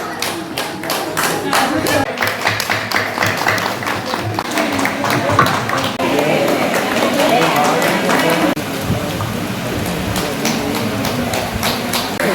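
Sustained audience clapping for children at an Onam celebration, a steady dense patter of many hands continuing for several seconds with voices murmuring underneath.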